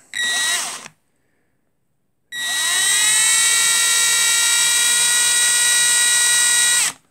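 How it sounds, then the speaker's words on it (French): A small power drill with a bit bores through a diorama part in two close, loud bursts: a short whirring spin, a pause, then a longer sustained high-pitched whine that stops abruptly. "Alors là, je vais percer."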